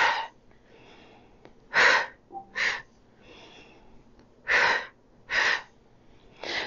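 Four sharp, breathy exhalations during a Pilates workout, each a short forceful burst with quiet gaps of soft breathing between.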